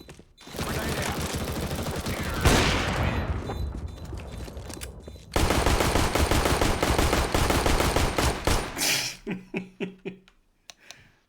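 Rapid machine gun fire in a first-person shooter game comes in long, loud, sustained bursts, breaks off briefly, then resumes before trailing into a few separate shots and quiet.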